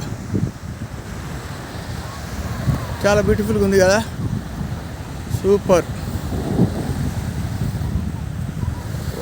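Sea waves and wind at Al Sawadi beach near Muscat form a steady, close roar of surf and gusting air through the whole stretch, with people talking over it.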